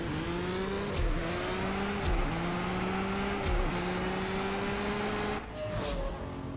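A Lamborghini race car engine in the CSR2 racing video game revs and climbs through several gear shifts, each upshift dropping the pitch before it rises again, loud and steady throughout a drag-race launch.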